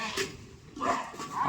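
A dog barking outdoors at a farmhouse picnic, two short yapping barks fairly close by, set against people talking.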